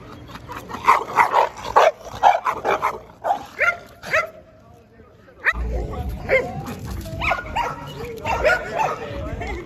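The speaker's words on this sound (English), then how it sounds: "that dog" A dog barks and yips in several bursts, close and loud, mixed with people talking over and between the barks.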